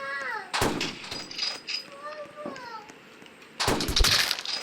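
Gunshots in a video game, two sharp loud bursts of fire separated by a gap, with a high-pitched voice chattering in between.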